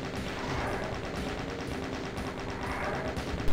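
Dense, continuous rapid fire from chaingunner enemies in the classic shooter DOOM, a steady rattling barrage that fills the whole stretch at close range with no pauses.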